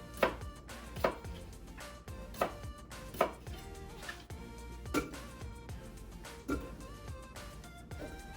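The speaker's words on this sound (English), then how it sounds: "First things first, we're gonna do some potatoes. I'm not going to cut these too small." A knife chops potatoes into big chunks for stew, striking the board in sharp, close thuds about once a second, with no talking.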